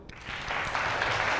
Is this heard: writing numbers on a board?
no